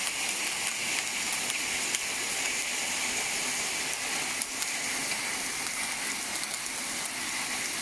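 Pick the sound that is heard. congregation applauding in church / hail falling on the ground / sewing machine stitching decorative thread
hail falling on the ground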